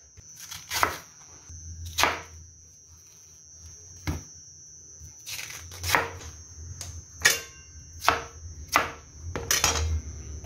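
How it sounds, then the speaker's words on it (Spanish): A knife chops ñame (yam) for mote de queso, about a dozen sharp, irregularly spaced cuts against a board, close and crisp with a faint steady hum underneath. "voy partiendo mis ñames"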